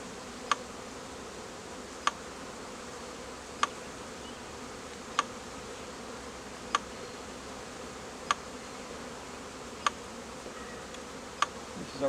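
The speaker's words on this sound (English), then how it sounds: "You can see we still got a good population of bees in here." Honey bees swarm around frames pulled from a hive, a dense steady buzz filling the space, with faint sharp ticks recurring at regular intervals underneath.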